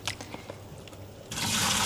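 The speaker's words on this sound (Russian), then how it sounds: "Сливаем воду" Rinse water drained off freshly washed beet stalks in a home kitchen, a soft trickle that swells after a quiet moment into a steady, fairly loud gush of running water.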